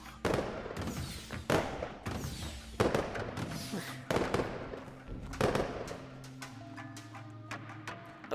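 A firework show in a multiplayer VR video game, with sharp bursts and crackling pops going off in quick irregular succession, layered with tonal whistles and hum, loud and close throughout.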